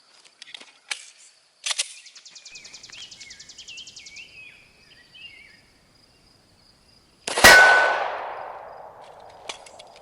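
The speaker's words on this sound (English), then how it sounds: "Next up, 9mm on my Glock 19." A 9mm Glock 19 fires at a steel armor plate: light clicks and rattles lead into one sharp shot whose impact rings out and fades over a couple of seconds.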